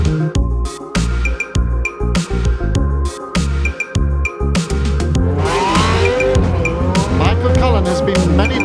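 Dunlop RT2000 saloon race car at Stormont during the Belfast City Motorsport Festival, loud engine revving in choppy bursts through gear changes, then a sustained roar with tyre squeal as it passes close by.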